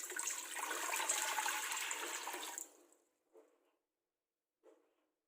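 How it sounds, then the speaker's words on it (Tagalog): Three liters of water pour steadily into a cooking pot in a kitchen for cherries, a loud continuous splashing rush that stops abruptly, followed by two faint clinks. "maglalagay na tayo ng 3 liters of water"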